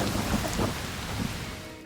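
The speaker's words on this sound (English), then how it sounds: "Heavy rain and thunderstorms didn't just look dramatic," Heavy rain pours in a dense, steady roar with low rumbling thunder underneath during a thunderstorm in the video game Arc Raiders, loud and continuous.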